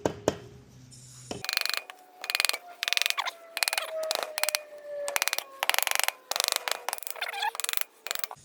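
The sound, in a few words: wrenching the cylinder off a 2014 KTM 250 SX-F engine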